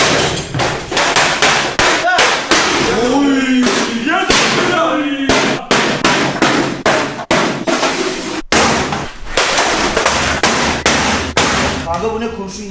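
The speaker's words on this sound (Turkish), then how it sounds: "Al canım şu kasayı kır." Rapid, loud cracks, bangs and thuds from a crate being smashed in a rage room, with blows landing in quick irregular bursts and shattering glass, mixed with excited shouting voices.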